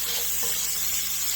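Bacon sizzles steadily in a pan, a continuous close hiss of frying fat throughout with no voices.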